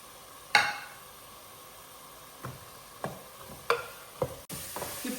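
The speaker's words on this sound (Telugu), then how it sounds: "ఈ అల్లం వెల్లుల్లిపాయ పేస్ట్ని కొంచెం మగ్గనివ్వాలండి, బాగా వేగనివ్వాలండి" Ginger garlic paste frying with onions in a pan, a soft continuous sizzle broken by several sharp stirring scrapes and clatters spaced a second or so apart.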